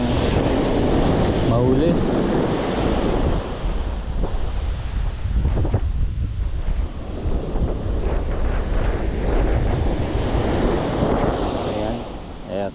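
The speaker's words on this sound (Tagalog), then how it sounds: "Katuhod lang yung alon dito, hindi tulad dun sa bungad." Knee-high sea waves washing at the shore during lure fishing, a steady loud surf roar mixed with wind buffeting the microphone, with someone speaking briefly over it.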